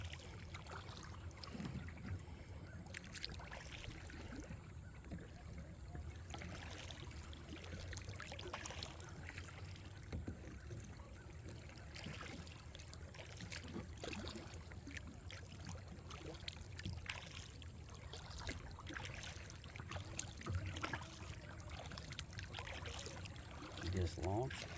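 Kayak paddling up Captain Creek in Ohio, with steady low water wash, soft paddle dips and splashes running throughout, a trickling, open-air bed of sound under faint background talk.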